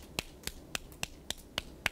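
Rhythmic hand clapping done as a lower back pain prevention exercise, about eight sharp, evenly spaced claps in two seconds, close and fairly soft with no talking.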